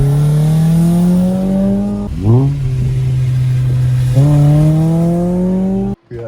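A car engine revs hard and climbs in pitch, drops after two seconds with a brief tire-squeal-like sweep, then revs up again loudly toward the listener, close and continuous.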